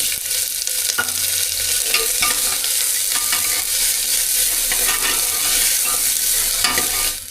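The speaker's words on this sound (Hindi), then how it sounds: "अब प्याज को लगा दूँ तड़का पहले।" Chopped onions sizzle loudly and steadily in hot oil inside a pressure cooker, with occasional stirring scrapes over a continuous bright frying hiss.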